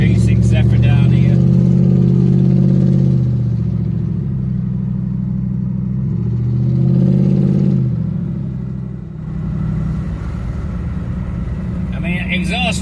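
A classic American Lincoln Continental Mk III drives along a road with a steady, low engine rumble that swells and eases, while someone talks over it throughout.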